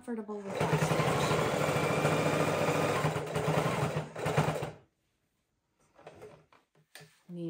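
A sewing machine stitches a seat belt cover in one fast, continuous mechanical whirr for about four seconds. It stops abruptly, followed by quiet handling sounds and a voice speaking nearby.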